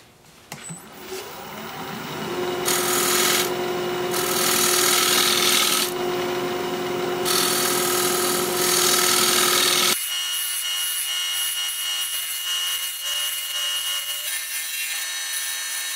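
Scraper cutting a spinning Siberian elm bowl on a wood lathe, making a loud steady rasping hiss in repeated strokes over the motor hum, then cutting off to a quieter hum near the end.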